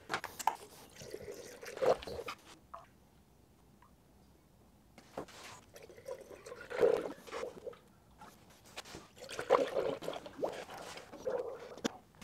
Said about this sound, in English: Let's fill the coolant.